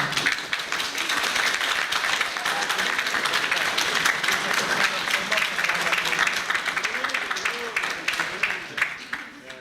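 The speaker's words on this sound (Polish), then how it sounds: "Brawa, brawa." A crowd at a school prom (studniówka) applauds after the polonaise dance, giving dense, sustained clapping that trails off toward the end.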